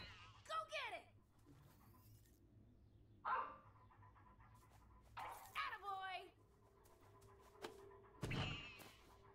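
A companion dog in Sunset Overdrive barks and yips in several short separated bursts, with whimpering tones and a thumping hit near the end, fairly quiet and close with gaps of low background between.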